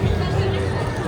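A crowded evening market in Rishikesh fills the air with a steady, dense hubbub of many overlapping voices, close by and continuous throughout.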